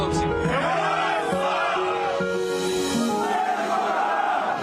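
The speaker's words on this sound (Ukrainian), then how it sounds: "Гасло, яке нарешті можна вигукнути на повні груди" A crowd welcoming returning Ukrainian defenders chants a slogan in unison, loud and sustained, with many voices shouting together in a steady rhythmic roar.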